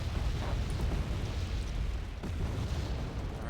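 Artillery shelling in the Wargame Red Dragon video game, a loud, continuous rumbling roar of overlapping explosions and heavy low booms with no clear gaps between blasts.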